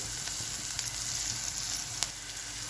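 Peas and cauliflower with turmeric sizzling in a hot pan, a steady frying hiss with a few faint stirring clicks, close and without talk.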